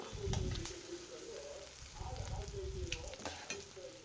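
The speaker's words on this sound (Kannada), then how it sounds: "ಅದು ಎಲ್ಲ ಬ್ರೌನ್ ಕಲರ್ ಆಗೋವರೆಗೂ ಸ್ವಲ್ಪ ಫ್ರೈ ಮಾಡ್ಕೊಬಿಡೋಣ" Eggplant and onion frying in a pan until brown for a vangibath gojju, a steady close sizzle with occasional scraping stirs and light clinks, continuous throughout with no voices.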